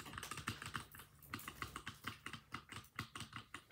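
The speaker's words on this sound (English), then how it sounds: "See how white switches sound?" Typing on a compact 60% mechanical keyboard with white switches: quick, close, clicky keystrokes in an uneven run with short pauses, and no voices.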